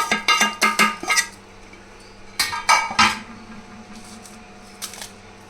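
A steel mixer jar is handled and garlic cloves dropped in, giving a quick cluster of sharp metallic clinks, a pause, then another burst of clatter and one faint final knock, close and fairly loud in a home kitchen.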